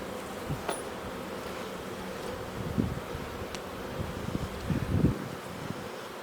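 Package honeybees buzz steadily and close during installation into a new hive, a dense continuous drone with soft swells and a few light knocks near the end.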